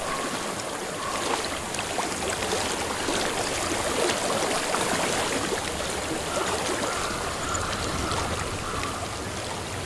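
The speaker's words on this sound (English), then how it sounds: "I hear water." Flowing stream water in the video game Hellblade, a steady, close rushing and trickling wash that fills the whole stretch without pause, with no voices over it.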